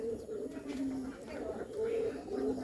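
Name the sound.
Bombay pigeons cooing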